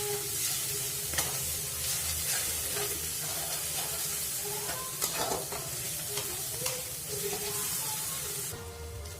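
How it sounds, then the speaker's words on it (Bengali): Chilli, coriander and cumin powder paste sautés in oil for a Bengali fish curry, a soft continuous sizzle with occasional scrapes and taps of a spatula stirring the pan. "এবার মশলাগুলোকে একসঙ্গে ভালো করে কষে নিই।"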